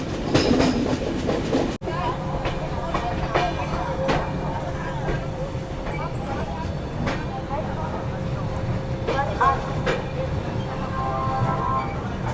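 Kalinga Utkal Express rolling around a curve on its approach to Hazrat Nizamuddin station in Delhi, with steady close rail rumble, rhythmic wheel clatter and a thin sustained wheel squeal, as people talk faintly nearby.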